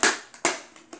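Several sharp plastic cracks and snaps, close and loud, with a brief crinkle between them, as Bakugan toy packaging is broken apart by hand.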